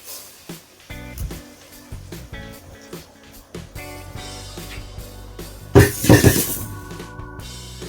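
Hot tempering oil is poured into homemade mango pickle, a brief loud sizzling hiss near the end following light clinks and taps of kitchen utensils.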